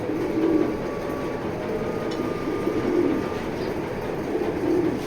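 Pigeons, including a Jansen-line grizzle racing hen, coo softly in a low, repeated rhythm over a steady background hum, the calls moderately close and not very loud.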